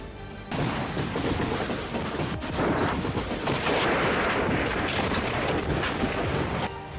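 Shelling and rumbling tanks during the December 1979 Soviet invasion of Kabul, Afghanistan: a dense, continuous roar of gunfire and heavy rumble sustained loudly throughout, with scattered sharp reports and crashes and no talking.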